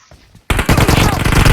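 Rapid automatic gunfire in a shooter video game, a loud continuous burst of shots that starts abruptly after a brief quiet moment with faint sounds.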